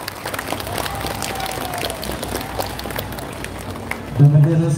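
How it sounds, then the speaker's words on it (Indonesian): Applause from an audience at a National Education Day ceremony at an Indonesian junior high school, a steady wash of clapping across the whole stretch, with a louder burst near the end. "Tepuk tangan yang meriah."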